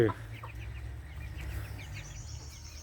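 Chickens in a backyard coop cluck in quick, close, repeated calls, with a low steady background hum.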